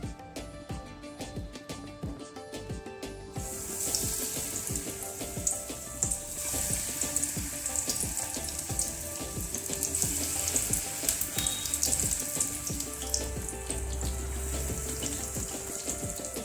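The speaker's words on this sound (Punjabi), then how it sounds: "ਤੇਲ ਗਰਮ ਹੋ ਗਿਆ ਤੇ ਆਪਾਂ ਆਪਣੇ ਹੱਥ ਨੂੰ ਪਾਣੀ ਲਾ ਕੇ ਤੇ ਫੇਰ ਇਹਦੇ ਵਿੱਚ ਆਪਾਂ ਛੋਟੇ ਛੋਟੇ ਪਕੌੜੇ ਪਾ ਦਵਾਂਗੇ" Spinach and onion pakoras dropped into hot mustard oil in a pan, a quiet start giving way to a steady bright sizzle and crackle that continues to the end, with no talking.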